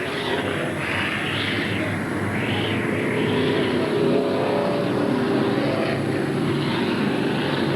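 Race cars roar around the Midvale Speedway track in 1980, a loud continuous engine drone with swelling passes, heard from a distance with no talk over it.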